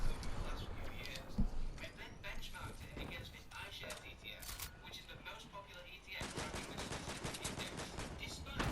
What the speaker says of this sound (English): Why are they all just shooting me?